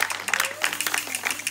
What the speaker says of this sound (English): So, clap to Gaspare and his spring scaletto